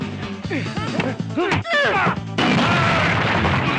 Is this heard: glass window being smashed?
yes